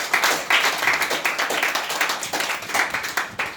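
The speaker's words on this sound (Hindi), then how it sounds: "तो आप सभी के लिए एक बार जोरदार तालियां बजाएं।" Audience clapping at a motivational talk, with many hands striking at once in a dense, steady patter of claps that sounds close and fairly loud throughout.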